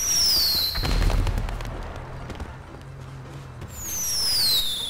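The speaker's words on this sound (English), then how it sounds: "Somebody shooting fireworks at me?" Fireworks fired in the online game Grand Theft Auto Online: a burst of low thumping bangs and crackles with whistling, rising streaks at the start and end, fairly loud and unbroken by speech.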